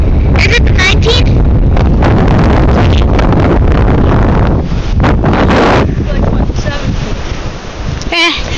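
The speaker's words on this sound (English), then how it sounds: "So windy." Strong wind roars across Popham Beach in Maine, buffeting the microphone in a loud, continuous rush with surf-like wash beneath, while a person's voice occasionally cuts through the gusts.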